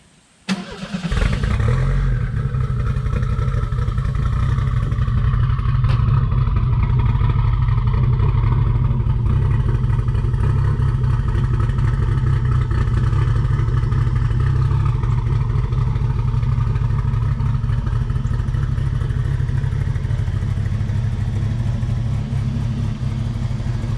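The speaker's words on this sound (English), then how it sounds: "I'm gonna toss the wheels back on and go take her for a little ride." Ford Mustang SVO Fox body after a rear suspension refresh, its engine starting with a sharp burst and then holding a steady, loud low drone as the car drives along the road, with no talking.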